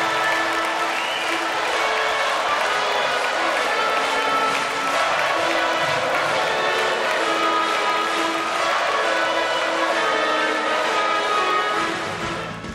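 Audience applause at a sports awards gala in Vic, a sustained burst of loud, dense clapping from a large crowd with light cheering, fading at the end.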